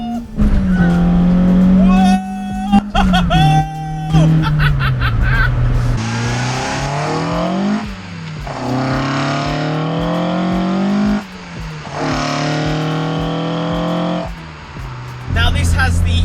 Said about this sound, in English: the 4A GE engine out of a Toyota Corolla in it, running 170 brake horsepower